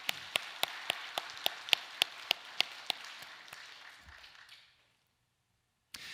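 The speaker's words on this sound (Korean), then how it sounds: "우리 박수로 좀 격려 보내주실까요?" A church congregation at a Sunday worship service claps in unison, about a dozen evenly spaced sharp beats over a softer wash of scattered clapping that fades out, followed by silence and one last clap.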